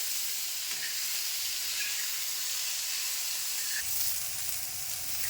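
Raw green tomatoes frying in hot oil for a North Karnataka chutney, giving a steady, close sizzle and hiss with faint stirring scrapes throughout and no voices.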